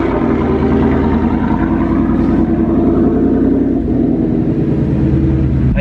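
A 2024 Ford Mustang with a manual clutch driven on the road, a loud steady engine drone and rumble that fills the cabin without a break.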